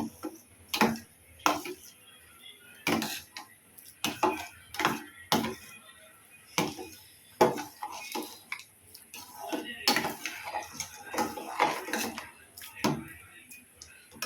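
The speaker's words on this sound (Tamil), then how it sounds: "இனிப்புக்கு தக்கன வெள்ளைப்பாகு சேர்த்து நல்லா கிளறி விட்டுக்கலாம்" A spoon stirring millet payasam with jaggery syrup in a pot, rhythmic clinks and scrapes against the metal rim, close and clear with quiet gaps between strokes.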